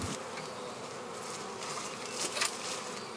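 Honey bees buzz around a hive beside a neglected nuc and swarm trap, a faint steady drone of many insects with brief louder passes as single bees fly close.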